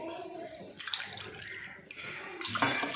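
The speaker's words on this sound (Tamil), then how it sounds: "இப்போ வந்து தண்ணி ரெண்டு டம்ளர் ஊற்றி கஞ்சி மாதிரி காய்க்கணும்" Water poured from a tumbler into a pot to thin idli batter into porridge, a splashing pour that comes in short bursts with pauses, close and moderately loud, with no talking.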